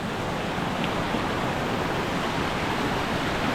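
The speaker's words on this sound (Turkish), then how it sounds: "Şelale muazzam gözüküyor ama" Waterfall rushing in a steady, dense broadband roar that holds constant throughout, heard from a moderate distance with no voices.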